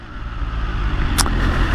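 A 2022 MV Agusta Dragster 800 RR motorcycle with an 800cc engine hums steadily while being ridden, a loud, sustained low drone with a brief sharp click partway through.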